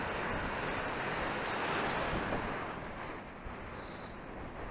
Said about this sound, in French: C'est juste plus les vagues qui sont un peu chiantes parce que ils passent au-dessus du fil